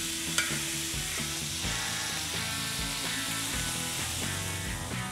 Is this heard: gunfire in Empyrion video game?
no